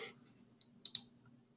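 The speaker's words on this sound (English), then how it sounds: "So clicking on Submit Now would add Chad and Paul Clark to this" A few sharp computer mouse clicks, isolated and close, while submitting a form in a Jira web app, with a soft hum underneath.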